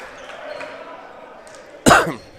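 A single sharp cough bursts out near the end, loud and close, after a stretch of quiet background murmur, during a high school basketball game broadcast.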